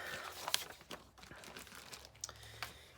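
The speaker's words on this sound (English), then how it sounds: "So I'm going to fold this" A paper greeting card being folded and handled on a craft table, with soft crinkling and crisp paper clicks and scrapes at close range, no talking.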